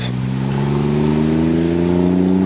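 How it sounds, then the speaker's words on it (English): A Smart car's engine revs loudly and steadily nearby, a harsh droning tone with its pitch creeping upward and no voices over it. "Why is the car so loud?"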